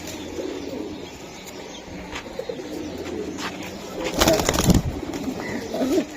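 Pigeons coo at a pigeon sale, a soft low murmur running under voices talking, with a louder burst of fluttering or handling noise near the end.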